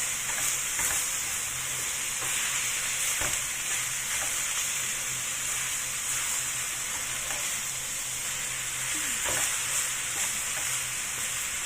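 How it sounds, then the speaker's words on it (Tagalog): Ground pork stirred and frying in a pan, with a steady loud sizzle throughout and occasional scraping stirs, no voices. "halo-haluin lang natin yan hanggang sa mag-brown ng kaunti"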